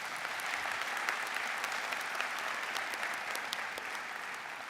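A crowd at a law school commencement ceremony applauds with a steady, even wash of clapping that sounds distant and fairly faint, sustained without pause.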